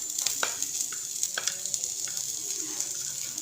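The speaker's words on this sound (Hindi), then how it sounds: "इसको हल्का सा फ्राई करेंगे और साथ में हम शिमला मिर्च भी डाल देंगे" Chicken frying lightly in a pan with bell pepper added, a steady soft sizzle with occasional clicks and stirring scrapes, no voices.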